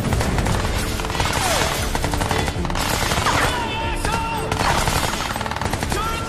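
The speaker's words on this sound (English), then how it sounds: "Let's hack this turret. Make it shoot its own teammates." A hacked turret firing nonstop in the video game Crysis 3, a loud, close, continuous machine-gun rattle with whizzing effects layered over it, no talk.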